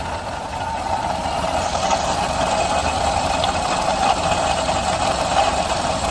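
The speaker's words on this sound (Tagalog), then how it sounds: "Mukhang nasa water pump ang ingay." A Suzuki Alto 800 engine idling with a worn, noisy water pump, a steady close-up mechanical drone with a faint whirring, rattling undertone running unchanged throughout.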